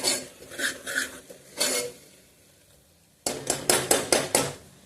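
Grated coconut is sautéed in a pan for a Solapur-style mutton rassa, with close scraping and clinking stirring strokes in bursts, then a quiet pause, then a rapid run of metal-on-pan scrapes.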